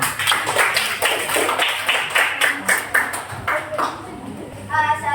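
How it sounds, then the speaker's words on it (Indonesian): A classroom of students claps for a student group in short rhythmic bursts of sharp hand claps, loud and close, with voices mixed in between. "Tepuk tangan dulu untuk kelompok Saat"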